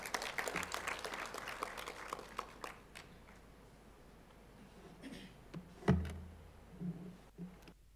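An audience at a youth digital skills report launch in Tanzania claps, fairly faint, for about three seconds before it thins out into quiet room noise with a few scattered knocks and taps.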